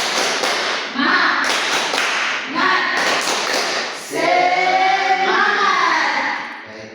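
A class performs a rhythmic spirit clap chant, children's voices chanting in unison with bursts of sharp group claps in a patterned rhythm, loud and close, ending in sustained sung or shouted voices.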